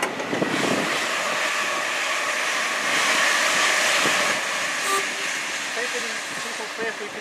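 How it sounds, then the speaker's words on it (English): A Bakerloo Line train pulls away toward Elephant and Castle at South Kenton station, a steady broadband rolling rush with faint squeals and hiss that slowly fades. A voice can be heard over the passing train. "the parting here is the Bakerloo Line train to Elephant and Castle"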